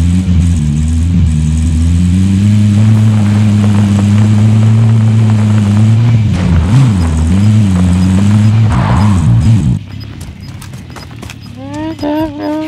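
A vehicle driving in the Warzone battle royale game: a loud, steady engine drone with shifting pitch as it moves, ending in a few sharper revs and clatter after the drone cuts off, with talking over it.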